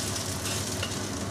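Beef pan-frying in a hot pan, a steady close hiss of sizzling fat that runs unbroken for the whole moment with no voices over it.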